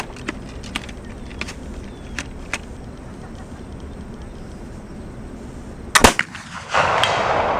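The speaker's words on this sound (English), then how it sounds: "And now we'll show you Ed Zoransky taking his shot on target" A muzzleloading rifle is fired at a target at a longhunter gathering outdoors, a sharp distant crack amid scattered faint pops and steady background noise, followed by a louder rustling burst.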